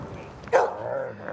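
A dog by a lake gives one sharp bark followed by a short whining, yelping tail, close and clear over quiet outdoor background.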